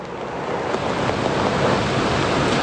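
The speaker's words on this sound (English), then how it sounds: "And the rain is certainly picking up out here." Steady rain picking up outdoors during flood coverage, a continuous broadband wash of falling water with gusty wind noise buffeting the microphone, moderately loud and unbroken.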